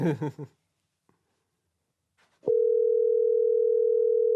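A phone call tone while dialing out: a brief burst of speech, a near-silent pause, then a steady, loud, continuous electronic tone that holds unbroken for about two seconds.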